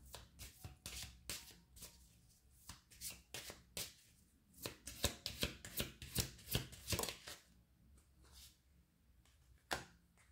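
A deck of cards shuffled by hand before another card is drawn, heard up close as a series of quick papery riffling bursts and taps in uneven clusters, with no talking.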